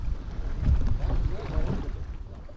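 Strong wind gusts buffet the microphone on a lake during a fishing outing from a boat, a steady low roar with rumbling surges and some water movement, loud and continuous throughout.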